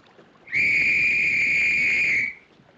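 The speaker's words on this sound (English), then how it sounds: "It's an officer's whistle." A single sustained, shrill blast of a ship officer's whistle lasting about two seconds, loud and steady, with quiet background before and after.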